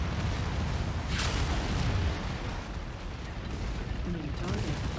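Cannon fire in the MechWarrior 5 video game booms amid a continuous roar of battle noise, with a sharp burst standing out near the start and heavy rumbling throughout.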